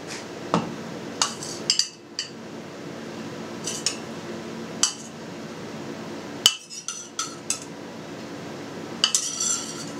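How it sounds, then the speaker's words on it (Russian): Scattered metallic clinks and scrapes of utensils against a plate as pasta is served over veal and tomato sauce, a dozen or so irregular taps over a quiet kitchen background, no talking. "Сверху выкладываем пасту."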